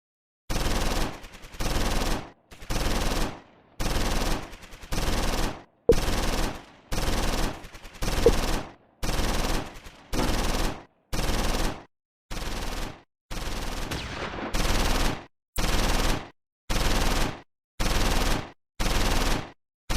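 Machine gun fire from the World War II video game Close Combat 4 repeats in about twenty evenly spaced, sharp bursts, each lasting roughly a second with short silent gaps between, loud and alone.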